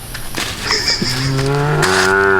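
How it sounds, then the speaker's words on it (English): Cattle grazing in shade along a dirt road in Uvita, Costa Rica, one cow giving a loud, close, drawn-out moo that rises in pitch near the end. "look at all these cows here"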